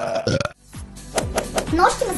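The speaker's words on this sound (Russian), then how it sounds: "легкая отрыжка придаст вам естественности" A woman lets out a loud, deliberate burp, close to the mic, in a short comedic skit with quick talking around it.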